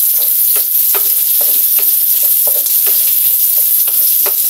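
Pork with garlic and onion fries loudly in a pan, a dense constant sizzle with regular scraping stirs cutting through every half second or so, close and with no voices.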